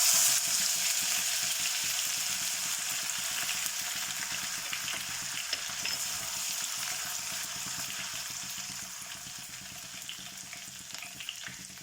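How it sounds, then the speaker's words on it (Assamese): Ginger garlic paste frying in hot oil in a kadai, a steady dense sizzle that holds evenly loud and close throughout with faint stirring underneath. "তেলখিনি গৰম হোৱাৰ লগে লগে মই তাতে আদা নহৰুৰ পেষ্টখিনি দি দিম।"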